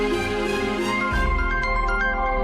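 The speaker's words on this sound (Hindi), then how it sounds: "नन्ही बिटिया का फोन आ रहा है, उठा लो" A mobile phone ringtone plays a sustained electronic melody for an incoming call, loud and close, with no voices.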